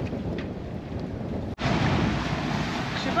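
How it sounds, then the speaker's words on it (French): Sea waves rolling in sideways against a sailing boat running under engine, a steady broadband wash of water and wind noise that drops out briefly mid-clip, then resumes louder and continuous. "Et on a des jolies vagues qui arrivent de travers"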